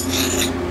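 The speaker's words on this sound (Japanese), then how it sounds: "ヤスリの刃が立たないくらいには硬くなりましたね。" A metal file rasps across a hardened homemade camshaft for a small DOHC engine head. One short, close stroke gives a gritty scrape that skids over the hard surface.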